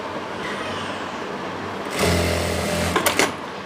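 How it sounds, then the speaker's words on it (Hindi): A sewing machine stitches around the folded waistband of a palazzo pant, a steady close mechanical whir that speeds up near the end and is broken by a couple of short stops. "इस तरह से हमने पूरे राउंड में सिलाई लगा लेनी है"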